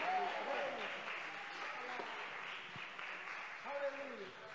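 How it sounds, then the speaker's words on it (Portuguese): Applause from a church congregation during a pastor's sermon, steady clapping across the whole stretch with voices and shouts mixed in over it. "aplauda mais forte ao Senhor"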